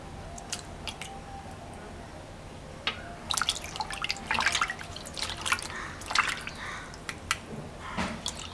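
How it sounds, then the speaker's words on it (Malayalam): Indian borage (oregano) leaves are washed one by one by hand under water, giving irregular nearby drips, trickles and wet splashes that come in clustered bursts after a quieter start. "നമ്മൾ നേരത്തെ പറിച്ചെടുത്ത പനിക്കൂർക്കയുടെ ഇല ഓരോന്നായിട്ട് ഇതുപോലെ കഴുകിയെടുക്കണം"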